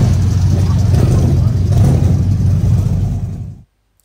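A Colt Sapporo car pulls away nearby, its mid-pitched engine humming steadily before the sound cuts off abruptly near the end.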